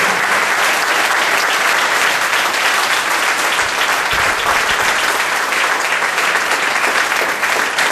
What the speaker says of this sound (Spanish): Aplaudan fuerte al Rey de la Gloria.